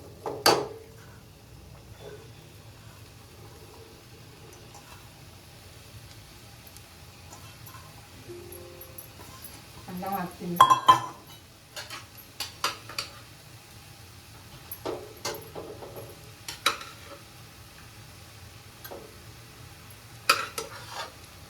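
Cooked rice stirred into scrambled egg in a home-style egg rice pan, with soft intermittent scraping and stirring clatter over a faint low sizzle, close by and without talk.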